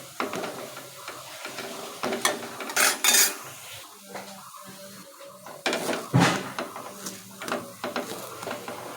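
A metal spatula chops lentil cakes into pieces inside a pan, giving irregular scrapes and sharp clinks against the metal, close and moderately loud, over a faint background sizzle.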